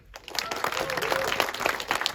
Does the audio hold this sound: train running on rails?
no